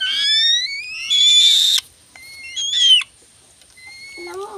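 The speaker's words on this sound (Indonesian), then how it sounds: "burung elang." A pet falcon (elang alap-alap) gives loud, shrill repeated calls while being fed: sharp rising whistles in bursts separated by brief pauses, close to the microphone, with no talk over it.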